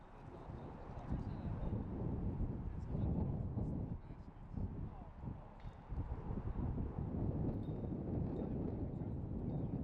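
Strong gusting wind buffets the microphone on an outdoor disc golf course, a low, rumbling roar that swells and eases in waves throughout.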